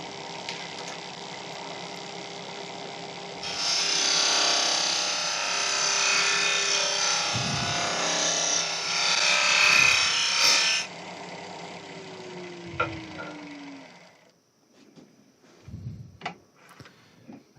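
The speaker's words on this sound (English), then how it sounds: "So trying with the thin parting chisel again." A thin parting chisel cuts into a small wooden keyring blank spinning on a lathe, giving a loud, steady rasping scrape for several seconds that then drops away to quieter scattered taps and knocks.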